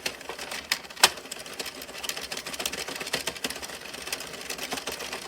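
An Addi knitting machine driven by a power drill runs in a steady, fast mechanical clatter, dense rapid ticking and whirring with occasional sharper clacks, close and continuous.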